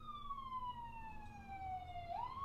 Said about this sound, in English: can y'all hear that siren?